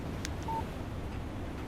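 Short electronic phone alert for an incoming text message in the video game Alan Wake Remastered, a brief bright beep over a low ambient hum.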